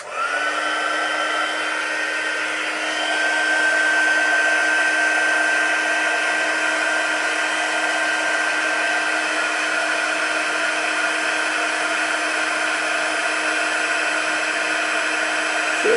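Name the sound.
heat tool embossing daisy stamp on tag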